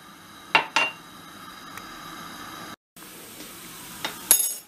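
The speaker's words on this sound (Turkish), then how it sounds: "Ve arpa şehriyelerimi kavurmaya başlıyorum." Orzo toasting in oil in a pot, with a few sharp clinks and scrapes of a utensil against the metal over a low, steady background hiss.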